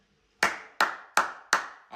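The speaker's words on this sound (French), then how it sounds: "applaudissez pour les Barcelonais. Applaudissez pour Barcelone." Four sharp, evenly spaced hand claps from a single person, close and crisp, each ringing briefly before the next, with near silence before the first.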